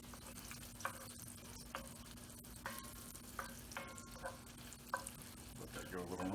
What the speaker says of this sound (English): I'm going to mix it now.